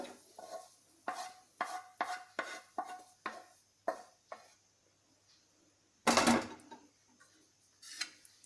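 Grated coconut being dry-roasted and stirred in the same kadai used for onions and garlic, for village-style chicken curry: rhythmic spatula scrapes and taps, then one loud clatter near the end.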